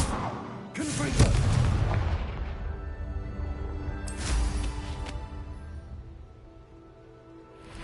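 Confringo fire spell in Hogwarts Legacy, two booming explosive blasts about three seconds apart with crackling bursts and a long rumbling decay, loud and close.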